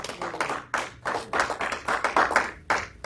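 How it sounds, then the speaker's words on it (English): A group of listeners at a church sermon claps in a quick, uneven rhythm, the claps near and moderately loud, with no talking over them. "at least you can clap for me"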